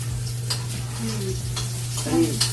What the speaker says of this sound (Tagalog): Isunod natin ang ginisang sayote